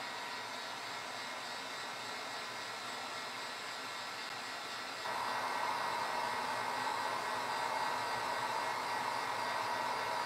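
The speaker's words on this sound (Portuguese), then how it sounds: "Eu estou secando mais para tirar esse molhado aqui e não correr risco de infiltrar" A hair dryer blows steadily to dry wet paint on an RC helmet, a close, continuous whooshing roar that jumps noticeably louder about halfway through and keeps going without pause or talk.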